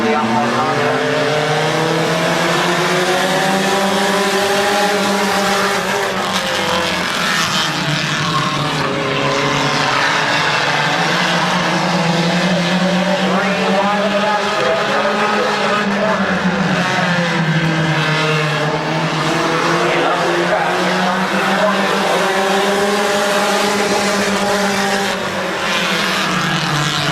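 Race cars, including an Outlaw Honda, race at Midvale Speedway. Their engines roar loudly and continuously, rising and falling in pitch as they pass around the track.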